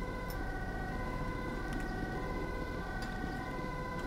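An ambulance siren in the video game GTA 5, a loud steady electronic wail held continuously throughout, close by over a constant low road rumble.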